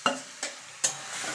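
Spiced chili chicken masala stirred in a frying pan, three quiet scraping strokes at uneven intervals over a soft sizzle.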